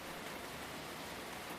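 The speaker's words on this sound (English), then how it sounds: "a soft Parisian rain will drift across a balcony high above the cobbled streets" Soft rain falling on a Paris balcony high above cobbled streets: a faint, even hiss of fine drops with no breaks, alone and without voices.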